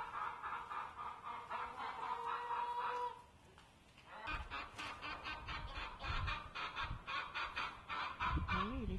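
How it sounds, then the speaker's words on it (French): Hens and a rooster finish off cat kibble, giving a steady stream of clucking and honking calls with a brief quieter lull midway, fairly close and moderately loud. "Voilà poulet coq qui finissent les croquettes des chats."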